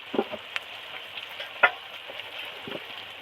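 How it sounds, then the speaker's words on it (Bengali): Drained mutton meets frying spice paste for a mutton curry, giving a low sizzle broken by a few sharp clatters and stirring scrapes, moderately near and with no talking. "এবার জল ঝরানো মাংসটা এর মধ্যে দিয়ে দিচ্ছি"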